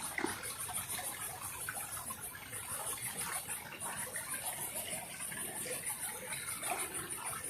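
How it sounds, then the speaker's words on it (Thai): Water in a small forest stream flows steadily, a continuous close gushing and trickling with no breaks, loud and unbroken with no talk over it. "น้ำไหลเนาะ"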